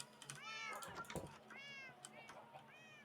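A cat in a video game meows several times in quick succession, each meow a short rising and falling whine over a steady background hum.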